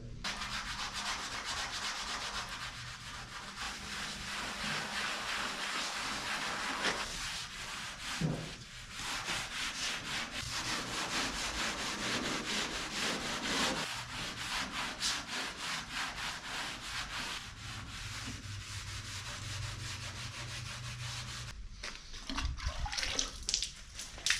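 Steady abrasive scrubbing of rust off the back panel of a 1967 Chevy truck bed, a continuous rough grinding rasp with brief pauses, close and loud with no talking.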